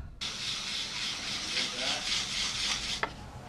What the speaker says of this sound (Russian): Беру кусок плитки ПВХ, которую раньше клали на пол, и до одури шкурю ее мелкой шкуркой